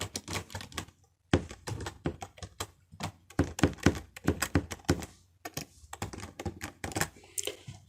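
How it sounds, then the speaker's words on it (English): Password being typed on a computer keyboard: a run of quick, close key taps in uneven bursts, with brief pauses between groups of keystrokes. "After typing the password,"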